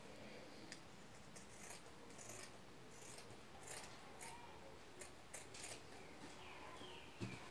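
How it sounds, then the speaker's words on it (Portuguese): Scissors cut through sewn fabric for a yo-yo pineapple craft, producing faint, quiet snips and clicks repeated in an irregular rhythm over soft room noise. "Agora eu vou recortar."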